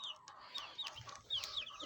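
Several chickens cluck and chirp softly in short, scattered calls, fairly close, with a faint background murmur.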